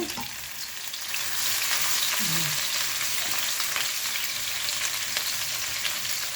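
Chopped garlic fries in a pan with a steady, bright sizzle that swells louder after the first second and holds evenly, with occasional light stirring and no voices.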